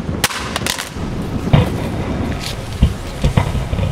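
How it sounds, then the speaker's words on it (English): A new iPad dropped face up onto a hard surface during a breakability test, producing low thuds of impact with clattering noise after them, fairly loud and heard alone. "Definitely a loud thud"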